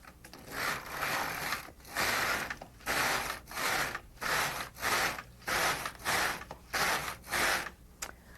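Carriage of an LK150 knitting machine pushed back and forth across the needles, a rhythmic series of about ten rasping, clicking sweeps, close and steady, with no talking.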